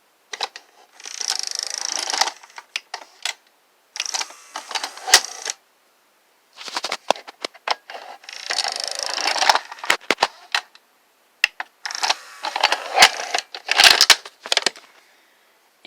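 A Sanyo VCR 7250 SuperBeta Hi-Fi video recorder ejecting its tape, heard up close as a series of mechanical clicks, whirs and clunks in separate bursts with short silences between, and no talk.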